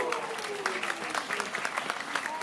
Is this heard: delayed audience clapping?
yes